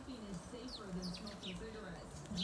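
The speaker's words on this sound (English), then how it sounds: "Oh, look, all my birds are coming back." Several birds chirp and tweet in short, quick calls up in the trees, fairly faint and outdoors, mixed with soft low sounds in the background.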